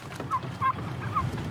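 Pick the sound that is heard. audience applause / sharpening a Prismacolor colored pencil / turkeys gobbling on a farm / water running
turkeys gobbling on a farm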